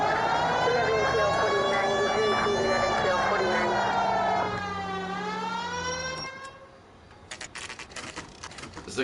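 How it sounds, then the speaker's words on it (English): A loud, wailing nuclear air-raid style siren in the video game L.A. Noire, with a slowly falling pitch, dominates, fading after several seconds into scattered clicks and rustles. "the siren sounds like something from a nuclear siren"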